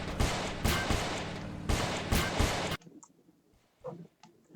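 Gunfire strikes a bus in a Roblox game: loud rapid cracks of shots hitting metal for nearly three seconds, then a sudden drop to quiet, with a few faint scattered impacts afterward.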